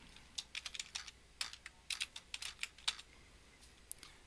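Typing on a computer keyboard, a quick irregular run of crisp key clicks in short bursts with brief pauses, fairly quiet and close, with no voices.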